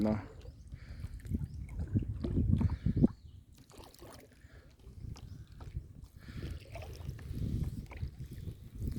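A boat travelling on the Mun River in Thailand gives a low, rumbling drone with water and wind noise, rising and falling, while someone talks over it.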